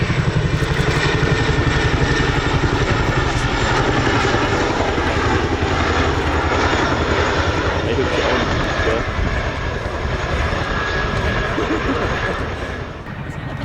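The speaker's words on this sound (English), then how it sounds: "The raw power and versatility of the Chinook is all down to its iconic tandem rotor design" An RAF Chinook tandem-rotor helicopter flies a role display at the Cosford airshow, giving a loud, continuous roar with rapid fine rotor thudding that stays steady for the whole stretch and eases slightly at the very end.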